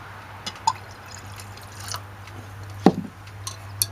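Liquid is poured during gold recovery from scrapped optical laser pickups, heard as faint sporadic drips and a brief splashy pour over a low steady hum in a quiet room.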